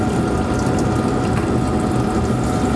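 A steady, loud rush of running water, continuous and unbroken, with a mechanical hum underneath.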